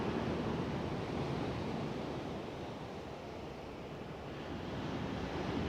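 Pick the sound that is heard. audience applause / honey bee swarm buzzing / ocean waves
ocean waves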